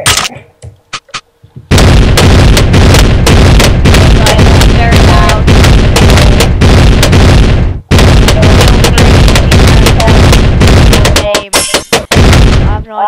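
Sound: bomb tower explosions in Bloons Tower Defense 5 video game

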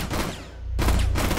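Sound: gunshots firing at a hologram in Rainbow Six Siege video game

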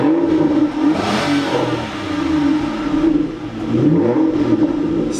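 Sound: Aston Martin engine revving

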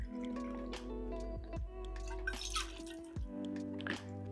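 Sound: pouring whisky for a smoked highball cocktail

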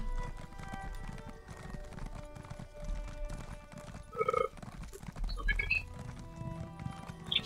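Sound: horse hooves clip-clopping in video game

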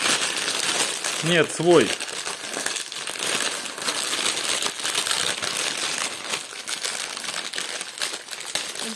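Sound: unwrapping a plastic parcel bag

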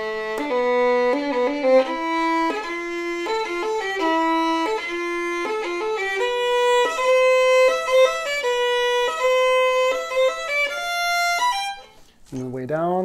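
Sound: violin playing Dounis exercise number five

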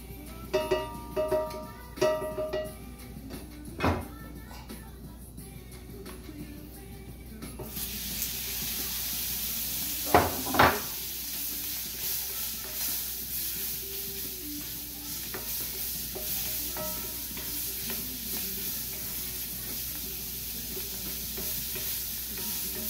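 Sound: stirring and frying bouillon cube in oil in a hot wok

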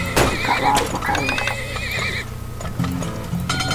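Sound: horses neighing in the video game Turmoil

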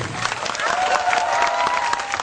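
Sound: applause

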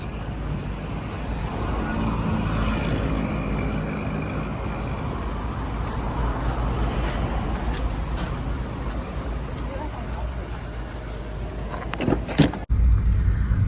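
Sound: riding in a car

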